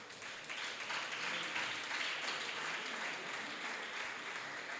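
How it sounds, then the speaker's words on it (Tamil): Audience applause at a student induction program, a steady wash of many hands clapping throughout, moderately distant and fairly soft, with no talk over it. "உங்கள் கைத்தட்டல் மூலமாக சொல்லுங்கள்."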